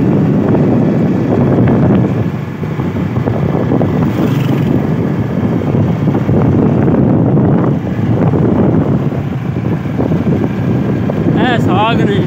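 Strong wind roars steadily across an open outdoor area where leafy greens are being flattened, a loud broadband rush buffeting the microphone throughout with little letup, while a person talks over it.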